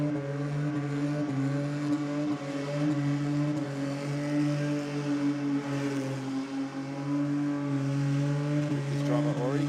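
At a night burnout competition, a car's engine holds a steady, strained drone with strong harmonic tones, pushing through a tyre-shredding burnout that continues unbroken throughout.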